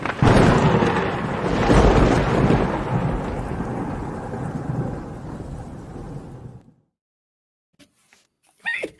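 A thunderstorm sound effect plays as music for a quiz lightning round on a breakfast business show: loud, rolling thunder with heavy rain for several seconds, then it cuts off abruptly into near silence broken by a few faint clicks.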